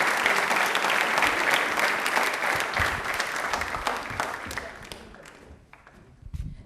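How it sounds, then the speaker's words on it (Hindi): Audience at a Rajasthan railway quiz programme gives loud, sustained applause for an honoured guest, dense clapping that gradually thins and fades toward the end, followed by a few scattered claps. "एक बार जोरदार तालियां होनी चाहिए सीमा मैम के लिए"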